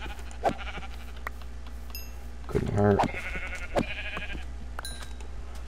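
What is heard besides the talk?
sheep bleating in Minecraft video game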